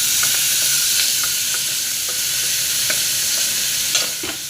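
Onions fry in a hot pan for pav bhaji, a steady loud sizzle and hiss with a spoon stirring and scraping through them in occasional soft knocks, close and continuous with no voices.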